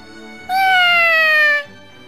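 A cat in the video game Record of Agarest War 2 lets out a single clear, drawn-out meow lasting about a second, loud and close, with only faint background sound around it.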